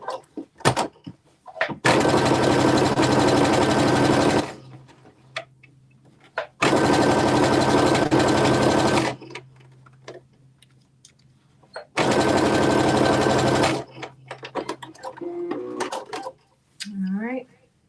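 A sewing machine stitches a 5/8 inch seam on yoke pieces for a KnowMe ME2069 top and shorts, three loud, sustained runs of fast stitching close up, with someone talking in the gaps.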